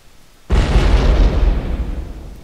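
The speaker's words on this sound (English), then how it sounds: "Explosion!" A loud, sudden explosion in the video game Happy Wheels, going off after a short quiet lead-in and then rumbling with a heavy low boom that slowly decays.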